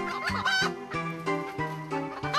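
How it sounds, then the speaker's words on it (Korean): A chicken clucks loudly and close, a quick series of throaty, rising and falling clucks with brief pauses between them. "닭 한 마리가 필사에 탈출을 한다"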